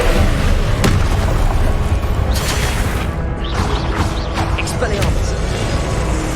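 Booming fire-spell blasts and bursts in Hogwarts Legacy combat, dense and loud, with sharp cracks mixed into a busy battle din under occasional speech.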